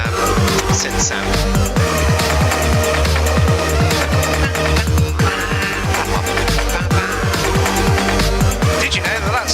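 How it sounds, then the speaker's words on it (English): A pulsing electronic synthesizer line with a throbbing bass and repeated stabs, loud and continuous. "Synth sound."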